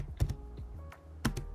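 A few quick, soft keystrokes on a computer keyboard, clustered in two short bursts with a pause between.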